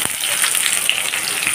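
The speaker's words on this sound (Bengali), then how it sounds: "আলুগুলোকে দিয়েও লাল করে ভেজে নেব।" Potatoes fry in hot oil, giving a dense, even crackling sizzle close by for a moment, with no talking.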